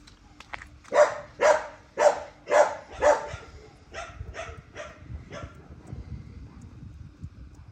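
A dog barks five times in a steady run, fairly close, then gives softer, quicker yips that fade, with faint background noise.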